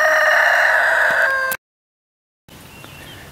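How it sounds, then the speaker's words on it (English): A rooster crows loudly and close in a backyard vegetable garden, one long strained call that cuts off abruptly, followed after a gap by quiet outdoor ambience. "I just had a chicken in my garden again"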